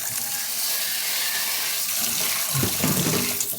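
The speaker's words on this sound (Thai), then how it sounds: "ล้างน้ำเปล่าอีกรอบหนึ่ง ล้างอีกรอบเลยนะคะ" Tap water runs steadily while pork liver is rinsed in a sink, a close, continuous gushing stream that turns splashier toward the end as the liver is moved through it.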